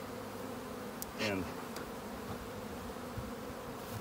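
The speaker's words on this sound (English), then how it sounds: "I'm gonna take these bees here and just jar them in there" Honeybees buzzing as they are shaken from a cardboard nuc into a hive, a soft continuous drone with a brief louder buzz passing near, faint overall with a short spoken word.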